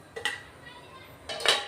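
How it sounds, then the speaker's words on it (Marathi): A lid goes onto a cooking pan of patodya bhaji on the stove with two metallic clinks, one near the start and a louder one near the end, faint and close. "दोन 3 मिनिटं आपण आता झाकून ठेवणार आहे"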